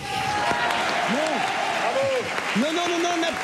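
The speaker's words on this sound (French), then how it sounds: "Non, n'applaudissez pas." Applause from a comedy-show audience greeting a stand-up comedian fills the room steadily, with a voice speaking over it at the same time.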